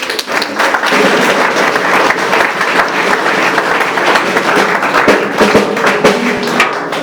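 Congregation applause in a church service: sustained, loud clapping from many worshippers, close and continuous, with scattered heavier thumps and faint voices mixed in throughout.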